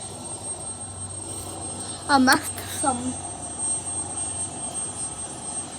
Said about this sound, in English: it seems like that plane that took off isn't coming back and it's a very long runway